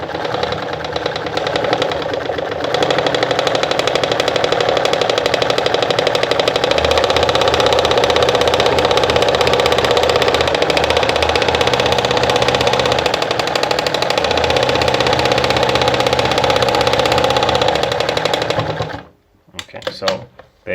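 A Pfaff model 210 sewing machine sews continuously with a loud, steady mechanical hum and rapid needle clatter close by, then stops abruptly near the end.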